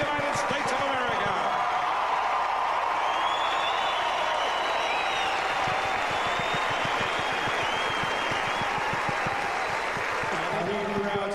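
Stadium crowd at the 2003 Australian Open men's quarterfinal between Andy Roddick and Younes El Aynaoui claps and cheers loudly for a long, steady stretch after the match, with scattered whoops over the dense ovation.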